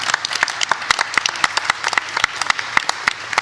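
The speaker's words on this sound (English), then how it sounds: "So give yourselves a clap." A small audience claps after a long panel session, scattered individual hand claps forming a loose, moderately loud patter throughout.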